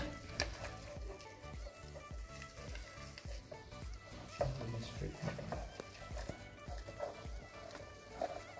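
A thickening choux pastry dough of flour, off the heat, is stirred in a pan, making soft, repeated scraping and dull knocking strokes in an uneven rhythm under faint sizzling, fairly quiet overall.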